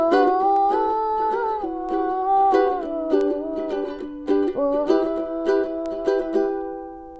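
Ukulele plays the island strum on a song's chords, a syncopated pattern of brushed strokes and muted chucks, moving through a few chord changes, close and unaccompanied.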